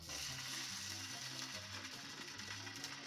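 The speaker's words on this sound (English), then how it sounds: "And we're going to let this sizzle for about 2 or 3 minutes." Ham sizzles and crackles steadily in a hot pan, a close, continuous frying hiss with small pops scattered throughout.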